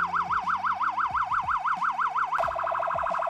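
A Feniex Storm Pro electronic siren wails in a fast, steady up-and-down sweep, then abruptly switches to a quicker, choppier yelp tone, loud and close throughout with no talking.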